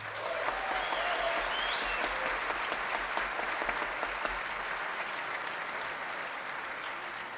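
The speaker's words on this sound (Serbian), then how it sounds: "Molim vas aplauz za Joris Relofsa." Sustained applause from a concert audience greeting a bass clarinetist, a broad, even roar of many hands clapping at moderate distance, steady throughout without talk.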